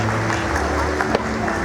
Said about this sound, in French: Je vous demande de faire un tonnerre d'applaudissements à Green.